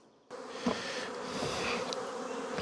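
Dense, steady buzzing of a mass of honey bees being shaken from a frame into a mating nuc, starting abruptly and holding loud and close, with a few sharper bumps of movement.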